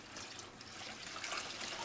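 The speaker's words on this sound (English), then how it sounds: "put the water in." Water poured into a container during a classroom sound-energy experiment with a toy boat, a faint, steady trickle lasting under two seconds with no talking.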